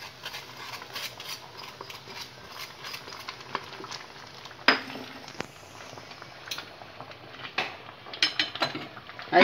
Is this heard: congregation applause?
no